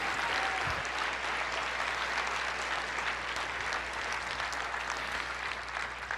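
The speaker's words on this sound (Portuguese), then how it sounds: "Uma salva de palmas para o Senhor Jesus." A church congregation applauds steadily for several seconds, a broad, even wash of many hands clapping with no pause, set in a large room.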